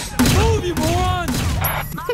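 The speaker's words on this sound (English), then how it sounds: "A mag dumping his body with tear gas." In the Sleeping Dogs police DLC, a tear gas gun fires several rapid bursts in a row, punchy, loud and close, while someone talks over the shots.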